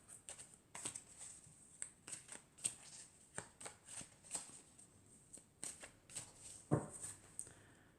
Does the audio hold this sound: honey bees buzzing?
no